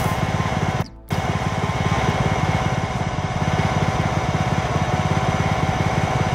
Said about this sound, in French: Bon, il passe donc la tondeuse